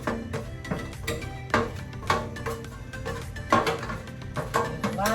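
Fried pork pieces (lechon kawali) being stirred in a pan, with repeated scraping and clinking strokes of the utensil against the metal every half second or so over a low sizzle, close and fairly clear, no talking.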